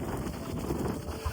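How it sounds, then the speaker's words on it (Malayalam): Strong wind at the Kanyakumari seashore buffets the microphone, a steady rushing roar with low gusty rumble throughout and no clear voices. "ഭയങ്കര കാറ്റ്."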